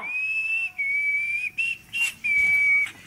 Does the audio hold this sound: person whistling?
yes